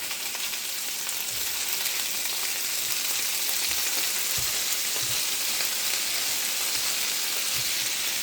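A stir fry sizzles steadily in a hot pan after being flipped. The hiss is loud, dense and constant, like rain, with faint low knocks from the pan underneath.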